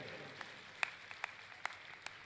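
Scattered, sparse hand claps from an audience at a Ram Katha religious gathering, a handful of separate sharp claps at an uneven pace over a low room hum, fairly faint and distant.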